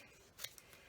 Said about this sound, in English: I'm just going to trim up the words a bit